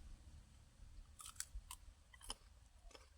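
Someone eating Shan-style fermented soybean chili paste at a lunch meal, with several short, moist crunchy chews and bites clustered in bursts, close to the mic and fairly quiet, with no talking.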